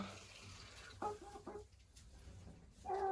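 A hen clucks softly in a few short calls close by in a coop with a rooster nearby, a quiet scene with faint background noise.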